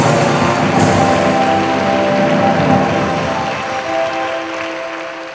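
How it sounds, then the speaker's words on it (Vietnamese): Congregation at an Assemblies of God church event breaks into loud, broad applause, with sustained tones from music or voices mixed in. It stays strong before gradually thinning toward the end. "Một lần nữa chúng ta cùng nhau cho một tràng pháo tay thật lớn"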